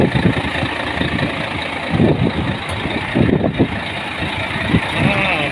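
Trucks pass along a road near a city hotel, engines rumbling and swelling in a few distinct waves, with a steady traffic hum and faint beeping in the background.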